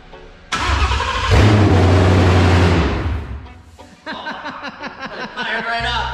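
A car engine on its first start with fuel cranks briefly, then fires and roars loudly before settling into a choppy, uneven idle, with someone talking close by.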